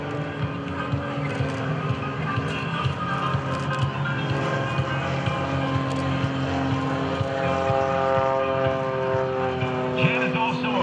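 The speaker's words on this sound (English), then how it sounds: "Slow the airplane down ever so slowly. And cross control it to boot." An aerobatic propeller airplane flies slow cross-controlled passes at a Blue Angels homecoming airshow, its engine drone steady and shifting in pitch throughout, moderately distant, with an announcer talking over it.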